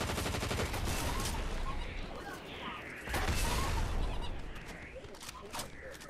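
Rapid bursts of gunfire from a Fortnite snow launcher battle, loud and continuous with dense crackling shots that dip briefly and then surge again, while voices talk faintly underneath.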